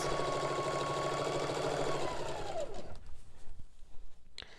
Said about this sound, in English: The machine I'm using is a Singer heavy duty machine.